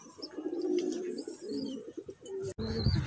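Pigeons coo softly nearby in a series of low, rolling calls, with a brief click partway through.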